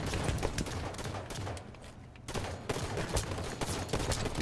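Rapid gunfire from the Halo 5 video game in a competitive match, with bursts of shots close and loud and a short lull partway through.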